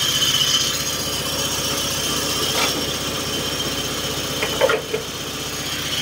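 An old Mitsubishi Lancer engine idles roughly, a steady low mechanical drone with faint vibration and a couple of brief knocks near the end, heard alone at close range.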